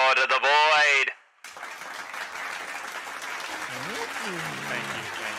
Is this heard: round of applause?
yes